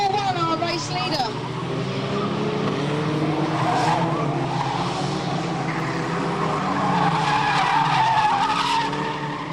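A race car spins out at a raceway with a long tire squeal and skid over engine roar, while a commentator talks throughout.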